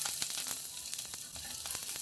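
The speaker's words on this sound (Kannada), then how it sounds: "ಈಗ ಇದಕ್ಕೆ ಒಗ್ಗರಣೆ ಹಾಕೋದು." Chopped garlic frying in hot tempering oil, a continuous close sizzle and crackle with small popping bursts, steady and fairly quiet, with no voices over it.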